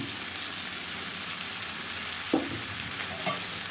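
Potato pieces fry in hot oil with red chili powder and turmeric powder, a steady bright sizzle throughout, with two brief stirring clinks partway through.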